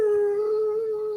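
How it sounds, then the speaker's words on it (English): A steady, sustained howl holds one drawn-out tone for the whole moment, fairly close and clear, with no talking over it. "That's my dog saying hello."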